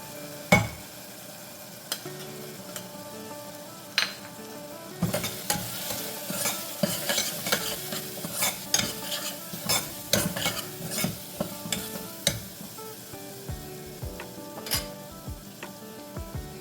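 Spices go into hot oil for a Navratri festival recipe, sizzling steadily while a spoon scrapes and clinks against the pan in a busy, irregular rhythm, close up with no talking.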